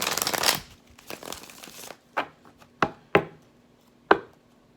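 A rapid riffle of tarot cards being shuffled, followed by several sharp taps and snaps as the deck is squared, close and clear.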